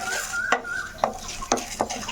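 A spoon stirs whole spices roasting in ghee in a pan, giving four or five distinct scraping clinks at a steady rhythm over a faint background sizzle, close and clear with no talking.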